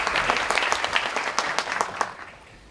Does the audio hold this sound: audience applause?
yes